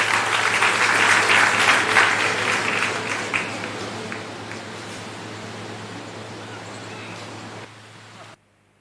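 Audience applause at a Chhattisgarh government benefit-distribution event, a dense, steady clapping that is loudest at first, then gradually thins and fades before cutting off abruptly near the end.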